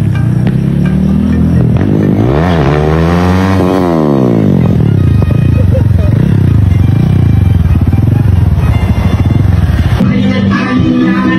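A Rusi F5 motorcycle engine roars loudly and continuously up close, its pitch sweeping up and down as it revs and settles, with a rattling clatter throughout and a shift near the end.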